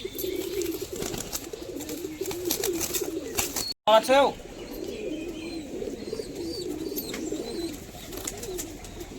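Pigeons coo in a pigeon seller's loft, a low murmuring that runs under a voice, with a brief louder burst of calls and wing sounds midway.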